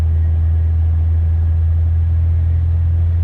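A 1973 Audi 100 LS engine while driving, a loud, steady low rumble of the motor droning continuously from inside the car with no voices.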